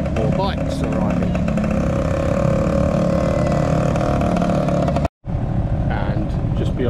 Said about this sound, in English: And more bikes arriving.